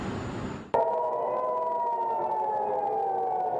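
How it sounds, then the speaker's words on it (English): An air raid siren in Israel warning of incoming Iranian missiles: after a short stretch of background noise, a loud steady wail starts abruptly and holds nearly level, slowly sinking in pitch. "Air raid sirens, a clear warning of incoming Iranian missiles."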